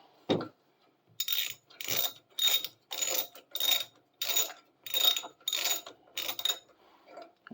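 A socket ratchet tightens an axle bolt on an e-bike's rear wheel, with about ten evenly spaced bursts of rapid clicking pawl strokes, close and crisp against a quiet background.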